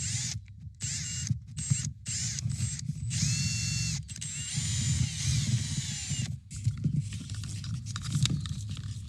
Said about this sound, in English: drilling a hole through the roof